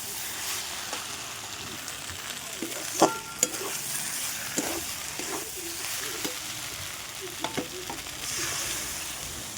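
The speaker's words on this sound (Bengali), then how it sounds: "কষে নিয়েছি এবার আমার কষা হয়ে আসছে" A spiced curry sautés in a pan, with a continuous soft sizzle and occasional sharp scrapes and taps of a spoon as it is stirred, heard close and without talk.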